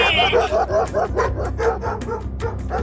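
Two dogs bark and yip aggressively as they charge to attack, a close, rapid run of overlapping barks with whimpering tones and a voice mixed in.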